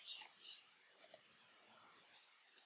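A quiet double mouse click, two quick taps close together, sits amid faint background hiss and soft murmuring.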